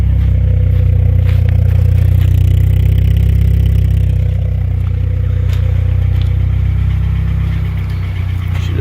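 A turbocharged Mitsubishi Eclipse engine idles steadily close by, not fully warmed up, a low continuous rumble from the exhaust with a faint rattle on top, holding an even level throughout with no talking.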